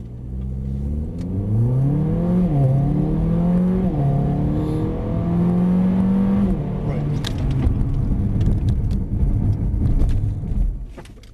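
A car's engine revs up hard through rising gear-like sweeps at full power from drive, then cuts off as it brakes hard, loud and close; a faint voice is briefly present near the end.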